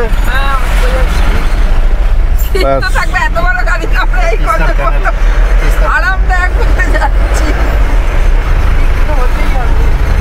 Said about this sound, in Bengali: এত বড় গাড়িতে আমরা মাত্র 5 জন মিলে আরামভাবে যাচ্ছি